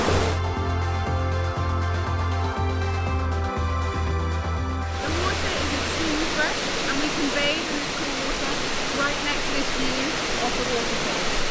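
Steady broadband rush of a waterfall at Chicol in Acacoyagua, Sierra Madre de Chiapas, filling the second half loudly and continuously after an opening stretch of rhythmic musical tones.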